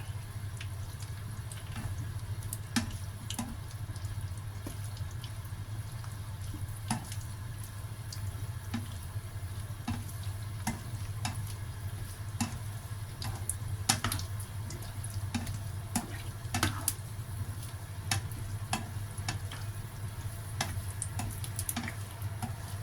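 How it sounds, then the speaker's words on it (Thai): Thai sausage being stirred in a hot pan gives a steady sizzle with a low continuous hiss and scattered sharp clicks and scrapes of the utensil, close and fairly quiet. "兜一兜啊！ 佢冇停啊！"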